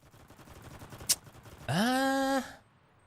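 Gunfire from a PDM-42 submachine gun in the Enlisted video game: a sharp single crack, then a loud continuous burst of about a second that cuts off abruptly.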